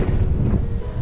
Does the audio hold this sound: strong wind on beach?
yes